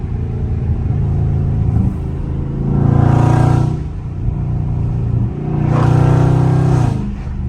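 A Dodge Scat Pack engine revs hard twice, each rise swelling to a loud roar before dropping back to a steady idle rumble.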